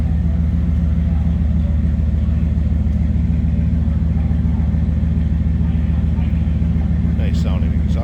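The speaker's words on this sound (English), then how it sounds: "Nice sounding exhaust." A 1992 Dodge Ramcharger idles steadily, its exhaust heard close from the rear of the vehicle as a constant low rumble with no break.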